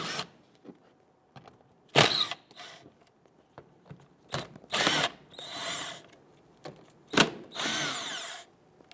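Cordless power tool loosening and removing 7/32 splash guard bolts at the fender trim of a 2011-2019 Ford Explorer, with close, loud bursts of whirring broken by short pauses and small clicks.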